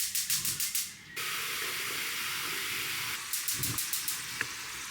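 Meat browns in a pan, giving off a steady sizzle and hiss that runs through the whole stretch, with brief clicks and taps from stirring at the start and near the end.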